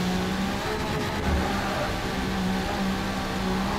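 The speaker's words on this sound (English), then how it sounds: "Big slide. Huge burnout." A Toyota MK3 Supra with an 800+ hp V6 doing a burnout in a racing game, a steady loud engine roar with tire noise held throughout without letup.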